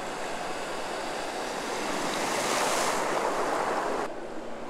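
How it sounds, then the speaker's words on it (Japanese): Heavy downpour on a flooded road in Shizuoka, with cars driving through deep water and throwing up spray, a loud, continuous rushing wash that swells toward the middle and then drops off abruptly near the end. "車は大きな水しぶきを上げながら走っていました"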